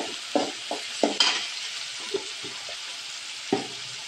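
Chili powder, turmeric and salt fry in hot oil for a village-style beans palya, a close sizzle under repeated spoon scrapes and stirring knocks against the pan.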